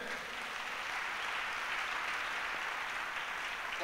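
Steady applause from a church congregation fills the whole clip at an even, sustained level, with no voices rising above it.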